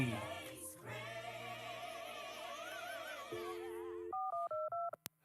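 Telephone dialing to Chris Murphy's office: a string of distinct DTMF keypad tones beeps in quick succession at the end, following a stretch of music with voices.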